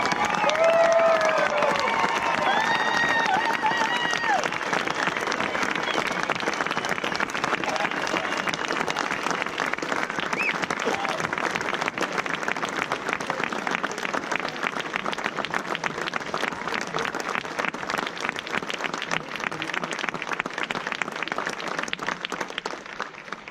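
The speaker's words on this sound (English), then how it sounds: "Let's show how we feel about them with another round of applause" A large audience at an evening lighting ceremony at Mount Rushmore gives service members a long, loud round of applause and cheering, dense clapping sustained evenly throughout with a faint voice near the start.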